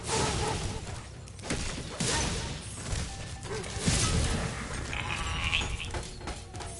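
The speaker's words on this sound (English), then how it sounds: "Yeah, that sheep's going." Sheep in the Spyro the Dragon video game bleat in a few short bursts, mixed with whooshes and crashing game effects.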